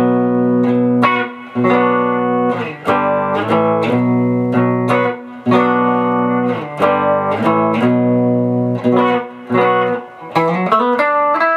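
A clean Telecaster-style electric guitar on its bridge pickup alone plays a run of bright, twangy notes and chords, each ringing out before the next, close and clear.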